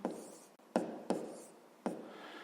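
Numbers handwritten during a fifth-grade math exercise, heard as four close strokes of pen or pencil on paper, each a short scratchy rub that fades out, with brief gaps between them in a quiet room.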